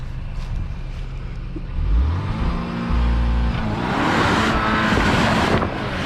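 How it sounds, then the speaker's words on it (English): An Audi Q5 doing an all-wheel-drive burnout, its engine rising into a loud sustained roar as the tires spin, with a broad rushing hiss building over the last few seconds. "Try to do an all-wheel drive burnout."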